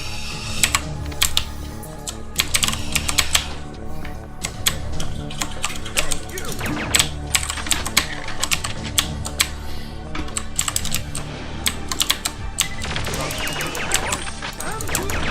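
Mechanical computer keyboard keys clatter in rapid, uneven bursts of sharp clicks, loud and close, layered over background game audio from Perfect Dark.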